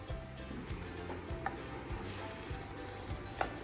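Hash browns fry in oil in a pan with a steady, quiet sizzle, broken by a few soft crackles and pops and no voices.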